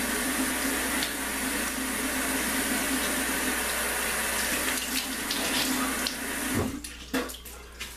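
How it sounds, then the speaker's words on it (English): Water gushes steadily from a tap for a cold water rinse after shaving, a broad continuous splash that cuts off near the end. "Cold water rinse."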